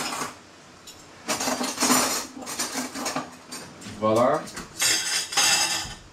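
Cutlery clattering and clinking against dishes while a table is set, in sharp bursts separated by short pauses, with someone speaking briefly in between.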